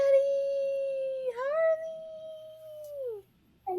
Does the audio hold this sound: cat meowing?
yes